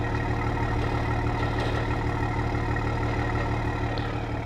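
Toyota Supra on its stock exhaust with the valves open, idling steadily: a constant low, rumbling drone with an even, unbroken level throughout, no revs or voices.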